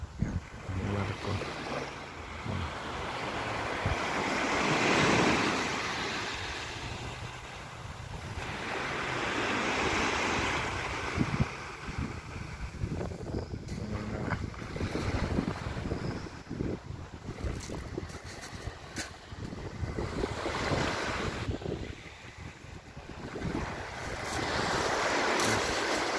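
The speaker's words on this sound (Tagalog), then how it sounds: "Tong alon ng dagat" Sea waves break and wash in at Savona beach in Italy, slow surging swells rising and fading over steady wind buffeting the microphone, with a faint mechanical rattle partway through.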